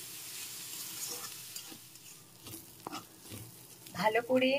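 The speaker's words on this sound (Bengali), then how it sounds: "তো এখন ভালো করে আমি নেড়ে চেড়ে মশলার সাথে মিশিয়ে ভেজে নিচ্ছি" Rohu fish stir-fried with spices in a pan: a soft sizzle broken by scraping and stirring strokes of a utensil, with a brief voice or clatter at the end.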